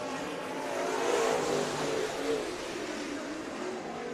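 Race cars battling on the dirt track at Bakersfield Speedway, a steady engine roar from the pack that swells briefly as cars pass closer, then settles back to a moderate, continuous drone.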